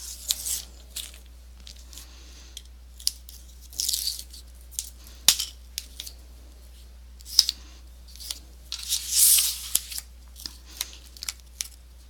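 A Stampin' Up paper trimmer slices through paper, giving a few separate sharp cutting swishes and clicks at irregular intervals against a quiet, steady hum, with no voices.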